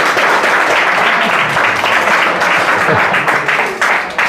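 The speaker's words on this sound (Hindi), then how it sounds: "जोरदार तालियां, जोरदार तालियां" Loud, dense applause from students in a tenth-grade classroom, a continuous close roar of many hands clapping for over four seconds.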